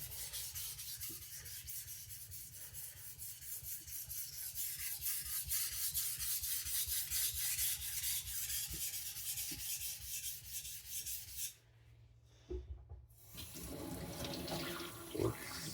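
An abused IKEA knife is ground thinner on a sharpening stone, giving steady, close scraping and rubbing strokes that run continuously, pause briefly near the end, then resume.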